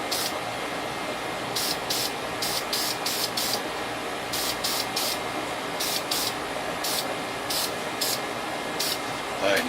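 An airbrush or spray can lays a light tack coat of paint on a scale model in short hissing bursts, roughly a dozen quick sprays in uneven rhythm against a steady background hiss.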